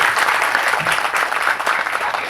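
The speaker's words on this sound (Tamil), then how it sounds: "நல்ல பலத்த கரகோஷத்தோடு வருக வருக என்று" Loud, sustained audience applause from a crowd welcomes director Vetrimaaran at the 'Sir' movie audio launch, steady throughout with no speech.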